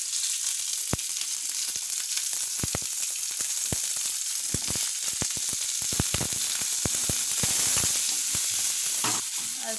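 Chopped ginger, garlic and small shallots sizzle steadily in a hot pan of oil, with a dense continuous crackle and occasional sharper pops running through the whole stretch, no voices present.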